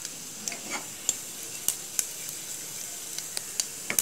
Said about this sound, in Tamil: ஆயில் எல்லாமே நல்லா ஃப்ரை ஆகிட்டுருக்கு, நல்லா ஸ்மெல் வருது.